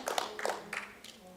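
A church congregation claps briefly, a few quick, fairly faint hand claps fading out after about a second.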